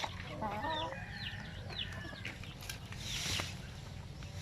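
Sampin native chicken breeders cluck and call in a farm breeding pen, with a steady mix of fowl vocalizations over low background noise.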